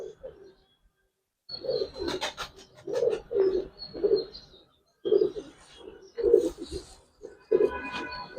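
Giribaz pigeons at a pigeon farm coo in repeated soft, throaty bursts, several birds close by, with brief pauses between calls and faint chirps mixed in.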